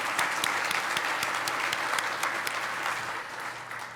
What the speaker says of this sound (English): let's give the wait staff a round of applause